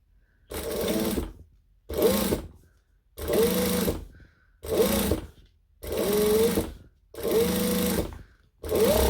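A sewing machine stitches handbag fabric at a long stitch length, running in seven even bursts of whirring and clatter, each about a second long and separated by short pauses.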